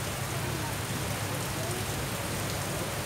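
Steady rain falls without a break, a dense close hiss of drops on surfaces with a low rumble beneath, continuous and fairly loud throughout.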